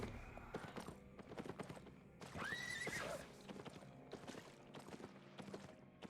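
Gallant Horse mount in Albion Online, clopping hooves in a steady walking rhythm with one clear whinny near the middle, close and fairly quiet.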